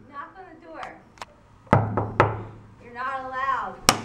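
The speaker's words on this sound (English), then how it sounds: "Knock on the door." Several sharp knocks strike a hotel room door in an old building, a pair at first and single raps later, close and loud, interleaved with people talking.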